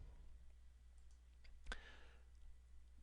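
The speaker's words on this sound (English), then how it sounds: "and then I just click OK." A single mouse click on a computer while working in an Excel spreadsheet, one short sharp tick near the middle of an otherwise quiet stretch with faint room hum.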